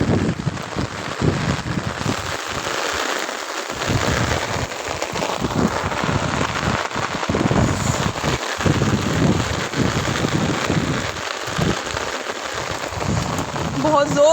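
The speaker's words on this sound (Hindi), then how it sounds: "बहुत ज़ोर से बारिश हो रही है" Heavy rain pours down steadily during a sudden downpour at a picnic spot, a dense, loud, continuous hiss on surfaces, with occasional low rumbles and faint talk in the background.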